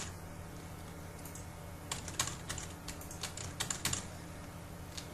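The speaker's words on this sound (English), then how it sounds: "Just type random letters." Quiet, close clicks of keys on a computer keyboard, irregular bursts of typing that grow a little busier midway, over a low steady room hum.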